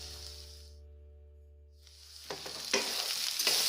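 Raw banana and potato pieces fry in a pan with onion, garlic and chili, first with a low hum and hiss, then with soft sizzling and stirring scrapes close by.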